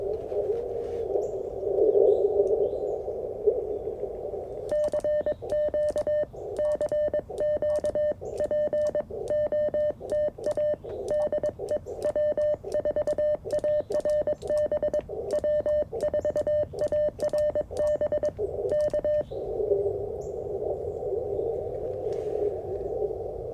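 CW Morse code comes over a 40-meter amateur radio on a QRP CFT1 transceiver, with rapid, steady on-off keyed tones above a band-noise hiss. The tones start a few seconds in and stop near the end, and nobody speaks.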